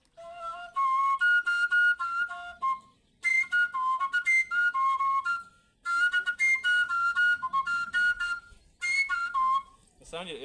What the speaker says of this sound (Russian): На самом деле, этот инструмент называется калюка.